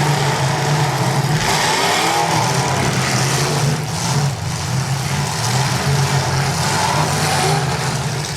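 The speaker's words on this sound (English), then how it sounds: "These two cars are just teeing off." Cars at a demolition derby rev their engines in rising and falling surges, with thuds of impacts over a dense, loud crowd and track roar.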